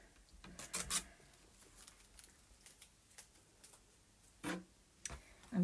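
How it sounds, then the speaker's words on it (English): Masking tape peeled off quilting fabric, heard as brief close ripping and rubbing scrapes in short bursts separated by quiet, with no voices. "Take my tape off because it's in my way."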